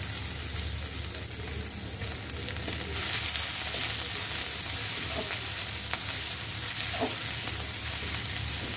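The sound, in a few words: ginger paste added to hot pan, sizzling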